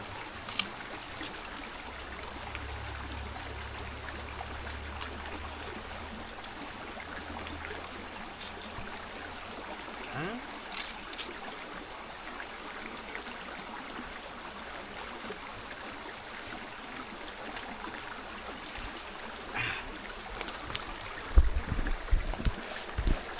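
A river or stream flows steadily with a soft, continuous trickling wash under a low outdoor rumble. A few brief knocks and splashes stand out.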